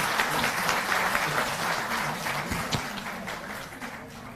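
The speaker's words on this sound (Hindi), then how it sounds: "बहुत जोरदार तालियां।" A large audience at a Delhi government awards ceremony applauds the chief minister, a steady, diffuse wash of clapping heard from some distance, fairly faint and without talk over it.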